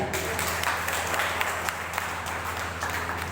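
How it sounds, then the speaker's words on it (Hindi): Steady, dense applause from a crowd at an opening ceremony, continuous clapping throughout without any speech. "इनके लिए जोरदार तालियां।"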